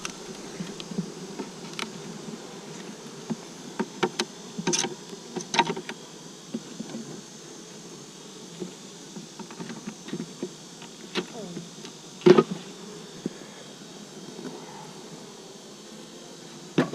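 Bees buzz around open beehives outdoors, a faint continuous drone with occasional sharper clicks and knocks from handling the hive frames, and a voice briefly speaking at low level.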